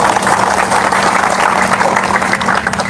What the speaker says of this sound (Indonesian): Tepuk tangan ke seluruh